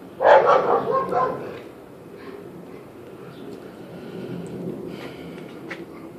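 A dog gives a short burst of loud barks near the start, then fainter yips and snorts follow over quiet outdoor background noise.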